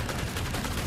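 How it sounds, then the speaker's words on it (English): Gunfire in the Resident Evil 4 video game, from an enemy shooting up through the floor: a dense, continuous burst of loud shots filling the whole moment, close and harsh, with no talk over it. "He shot me through the floor."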